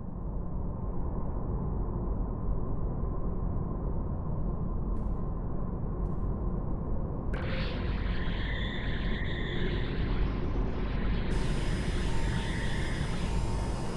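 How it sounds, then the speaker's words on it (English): A jet aircraft flies past, its broad steady roar holding at an even loudness for the whole stretch, with higher whining tones building in the second half. "Jet."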